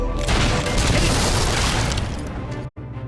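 A loud, sustained crashing boom as a mortar is destroyed in Fable 3, a rumbling explosion with debris that fills the scene, then cuts briefly near the end.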